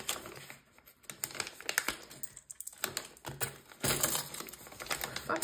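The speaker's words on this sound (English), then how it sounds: "let's put some more in the 100 envelope." Cash being stuffed into paper envelopes: close crinkling and rustling of paper and notes, irregular soft taps and shuffles, quiet and continuous throughout.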